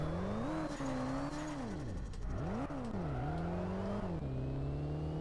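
A Chevrolet Camaro SS with 500 horsepower in the drift video game Drift Streets Japan revs and accelerates, its engine tone climbing, dropping and climbing again through gear changes, loud and continuous with no voices.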